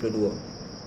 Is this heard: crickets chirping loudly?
yes